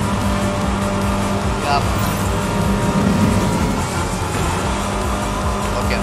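Race car engines in the video game Fortnite Rocket Racing roar steadily in a continuous high-revving drone, with a brief tire squeal, while a player talks over it.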